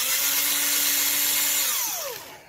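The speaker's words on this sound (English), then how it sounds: "use a bloody electric drill" A power drill, used while removing clutch parts on a first-generation Hayabusa motorcycle, whirs loudly and steadily up close, then its pitch drops as it winds down and stops.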